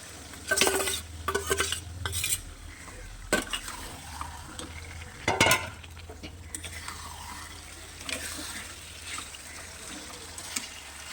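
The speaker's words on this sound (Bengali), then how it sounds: "আর চিকেনটাকে ভালো করে কষিয়ে নেবো" Marinated chicken cooks in a pan with tomatoes for a home-style chicken biryani, giving a soft background sizzle broken by several sharp scraping stirs and clinks of a utensil against the pan.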